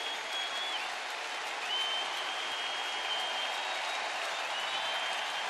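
A baseball crowd of more than 21,000 cheers and applauds steadily in the 8th inning of an Indians game, a dense, even roar of clapping and voices with a faint whistle-like tone over the top and no talk.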